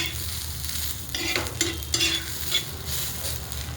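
Cluster beans (guar) roast on a hot tawa just after chapatis were made, giving a steady close sizzle broken by the scrape and rustle of stirring, with no voices.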